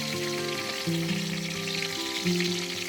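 Olive oil heats in a pan for seafood rice, hissing and sizzling loudly and continuously up close, with a few brief louder bursts of crackle and no talking.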